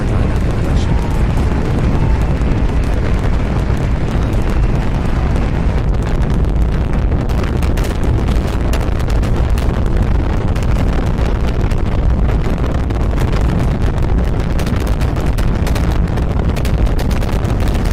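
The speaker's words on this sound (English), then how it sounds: "All 33 engines are ignited at the infinity booster." Thirty-three engines of a rocket booster firing during a launch flight test, heard as a loud, continuous broadband roar with crackling rumble that stays steady throughout.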